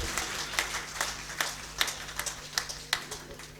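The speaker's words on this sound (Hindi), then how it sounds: "एक बार जोरदार तालियां उन्नति के लिए" Audience at a poetry gathering claps for a female poet, a sparse, uneven patter of individual claps with distinct louder hits, fairly soft over a room hum.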